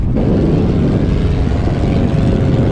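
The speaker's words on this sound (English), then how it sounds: "Plane getting ready to take, oh, he's taking off!" An airplane taking off from the international runway in Tahiti: a loud, steady, close engine roar that fills the whole span without pause.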